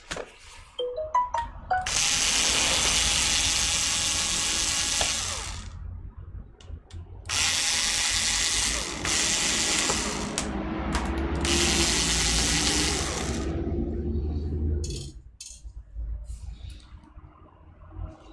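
A ratcheting screwdriver clicks rapidly as screws come out of the internal hard drive of an ASUS VivoBook S400CA laptop, in several long close bursts separated by brief pauses.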